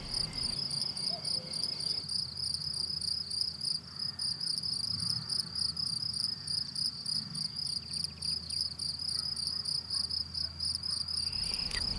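Crickets and other insects chirp steadily in a meadow, a dense high-pitched pulsing chorus that continues without pause under a quiet background.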